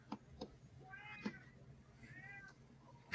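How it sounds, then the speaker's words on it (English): A cat meows twice, drawn-out mews close by, with faint clicks and thumps before and a sharp knock at the end. "Does this guy hear the meowing too?"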